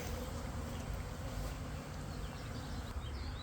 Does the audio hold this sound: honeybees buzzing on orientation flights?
yes